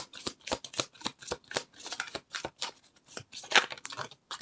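Tarot cards shuffled by hand in a quick, uneven run of crisp riffling bursts and slaps, close and loud with short gaps between, no talking.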